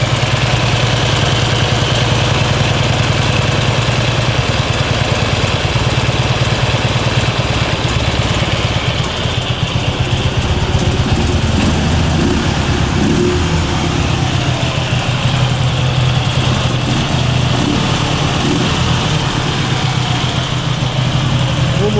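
A vehicle engine, started in neutral, idles steadily and loudly with a low droning rumble that holds unchanged throughout, close by, with no talk over it.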